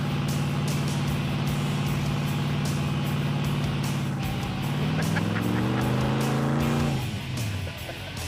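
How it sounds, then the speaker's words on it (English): Loud engine of the Roadkill pro street car idling and revving right after a burnout, with a steady low drone that swells in pitch and then drops back down near the end. "That was our most successful burnout yet in this car."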